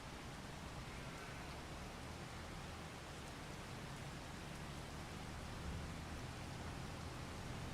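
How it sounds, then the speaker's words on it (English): Rain falling in the farming game Farming Simulator 25, a steady, soft wash of noise that continues evenly throughout without voices. "that rain's coming at just the perfect moment"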